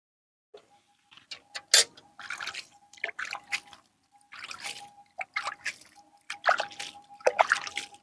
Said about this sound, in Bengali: তো তো আমি এবার গাছটায় জল দিয়ে দেবো।